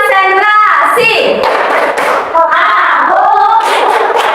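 Children in an Indonesian classroom chant a rhythmic clapping routine, with quick rounds of hand claps and thumps mixed into loud group chanting and high voices.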